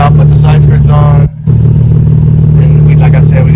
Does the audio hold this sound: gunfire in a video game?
no